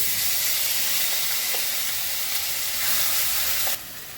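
A ground paste of onion, garlic, tomato, ginger, cashew and green chilli hits hot oil in a pan, giving a loud, steady, hissing sizzle that runs continuously before dropping abruptly in level near the end.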